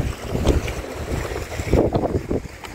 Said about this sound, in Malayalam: ഇവിടെ നല്ല വിൻഡ് ആണ് കേട്ടോ,